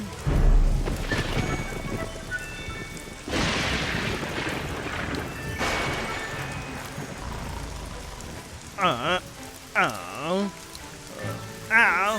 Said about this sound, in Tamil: என்ன இந்த மழை நிக்கிற மாதிரியே தெரியலையே